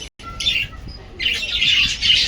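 Small colorful birds in a caged aviary at Neelon zoo in Punjab chirp in bright, close bursts, with a brief pause near the start and then busier, overlapping tweeting.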